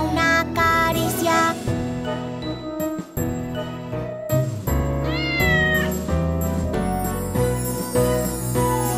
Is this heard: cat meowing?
yes